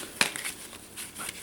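Four colored Mage Knight city tiles are shuffled by hand, giving a few brief close-up rustling, scraping cardboard bursts separated by short pauses.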